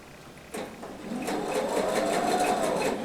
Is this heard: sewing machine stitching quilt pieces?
yes